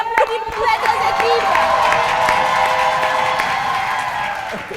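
A crowd applauds and cheers for two teams at a game show, with whoops and shouts over steady clapping, loud and close throughout.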